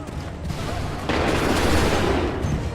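Musket volley gunfire from a battle in the Assassin's Creed 3 video game: a loud, dense burst of many shots together that swells about a second in and keeps rolling as a sustained, crackling fusillade.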